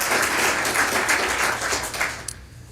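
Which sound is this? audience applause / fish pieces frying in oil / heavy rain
audience applause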